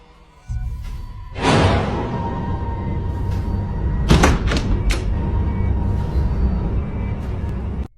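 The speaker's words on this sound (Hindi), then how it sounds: "सामने का दरवाज़ा कोई खटखटाता है" Someone knocks on a front door, producing a quick cluster of a few sharp thuds midway through a steady, noisy background drone, with a rougher thump heard earlier.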